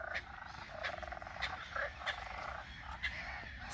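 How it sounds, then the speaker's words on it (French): Frogs croaking some distance away outdoors, a steady, faint chorus of repeated calls that runs through the whole stretch without any voices. "En tout cas, on peut entendre aussi les grenouilles."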